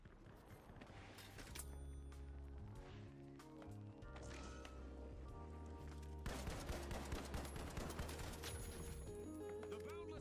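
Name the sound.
gunfire in a video game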